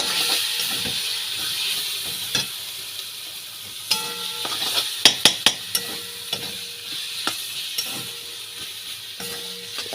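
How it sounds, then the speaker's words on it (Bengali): A spoon stirs shahi garam masala into a cabbage curry in a pan, with a steady sizzle and hiss under scattered clinks and scrapes against the pan, a few louder knocks in the middle. "দেখো শাহি গরম মশলা দিলাম অল্প করে। এটাকে আমি মিলিয়ে দেবো।"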